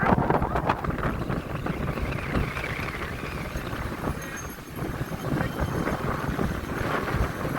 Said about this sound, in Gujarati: પવન પણ એકદમ આવે છે, એકદમ પવન ચાલુ છે અત્યારે